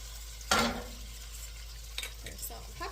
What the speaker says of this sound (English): So we're going to put seasoned side down into the pan